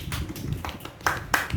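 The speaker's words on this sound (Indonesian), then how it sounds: "Tepuk tangan dulu." Classroom applause with children clapping their hands: a short, faint burst of scattered claps with several sharp, uneven hits in quick succession.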